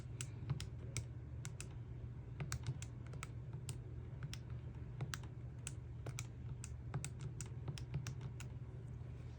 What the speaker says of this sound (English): I'm going to type this 3 by 3 matrix into my calculator